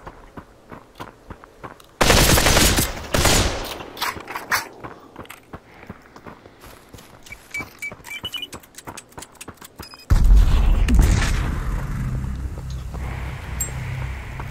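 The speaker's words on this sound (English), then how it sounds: "That was a poor grenade on their part." Gunfire and a grenade explosion from the VR battle royale Population: One: a loud blast opens a burst of rapid shots, then sporadic clicks and footsteps, before a second heavy explosion rumbles on to the end.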